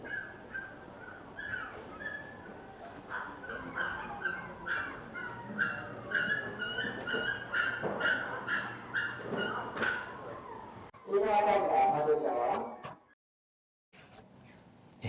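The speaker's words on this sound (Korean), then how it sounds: "현장에서 강아지 울음소리가 굉장히 많이 들리는데" Young puppies, about 40 to 50 days old, cry and whimper at a dog auction, with many overlapping high yelps and whines throughout. A louder burst follows, then a brief silence.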